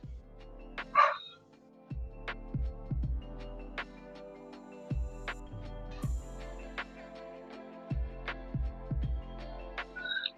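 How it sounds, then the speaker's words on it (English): A dog barks in short bursts, several groups of sharp barks spaced across the clip with pauses between, fairly close and clear. "Keep barking."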